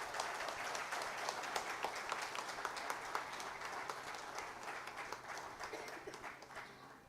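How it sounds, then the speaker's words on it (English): Sustained audience applause at a silver jubilee celebration as dignitaries are called to the dais, a dense, steady wash of many hands clapping for about seven seconds at moderate, fairly distant level, tapering slightly at the end. "please give a big round of applause"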